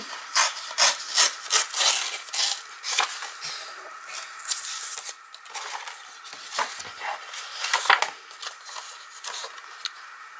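A paper page in an art journal is cut in short scraping strokes, close and crisp, coming in quick bursts with small gaps between them.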